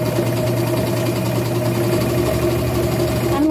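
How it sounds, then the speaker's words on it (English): A serger sewing machine stitching fabric for an upcycled boho scarf, giving a steady, close motor drone that runs evenly for a few seconds with no talking. "And let me use my serger even."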